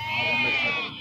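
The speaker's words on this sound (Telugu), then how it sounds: "మరి పెబ్బేరు మార్కెట్కి మరి మేకలు ఏ విధంగా వచ్చినాయి చూస్తున్నారు కదా" Goats unloaded from trucks at a livestock market in Pebbair, Telangana, give a single loud, close bleat lasting about a second.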